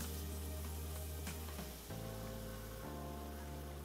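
White stock going into a pan of mushroom risotto: a steady close-up sizzle and crackle with a low bubbling undertone, pitch dipping briefly as liquid hits the hot rice.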